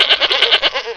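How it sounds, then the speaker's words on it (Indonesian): Several goats bleat in quick succession close by, a string of short nasal cries overlapping one another with no talk over them. "Itu ada banyak kambing tuh."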